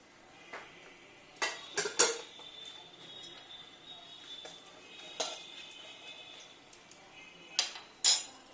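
A spoon stirs cumin, coriander and a little chili powder in a cooking pot, giving sparse, light metallic clinks and scrapes, a few sharp taps standing out against a faint steady sizzle and hum.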